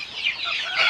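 A rooster on a chicken farm lets out a loud, close call, one sustained rising cry across the second with no speech over it.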